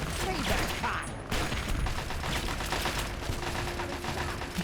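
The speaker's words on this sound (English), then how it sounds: "Kind of getting shot on all sides, aren't we?" Turrets fire in Fallout: Tale of Two Wastelands, a dense, continuous rattle of gunshots and mechanical clatter close up, with a brief lull near the one-second mark.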